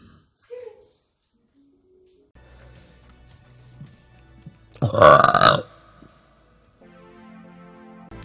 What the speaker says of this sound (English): because the burps are so deep they seem three-dimensional